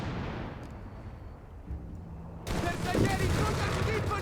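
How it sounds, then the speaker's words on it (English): German light artillery fire lands in the strategy game Company of Heroes 3, a sudden heavy burst of rumbling blasts after a quieter spell, continuing loud and dense to the end. "And immediately getting hit there by German light artillery"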